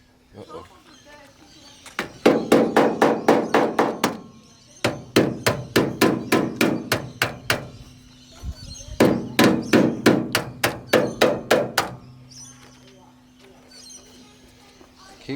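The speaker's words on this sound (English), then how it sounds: "gonna hammer this out" Repeated sharp hammer blows shaping a metal bracket for Ford Falcon rust repair, in rapid bursts of about a dozen strikes each, loud and close, with short pauses between sets.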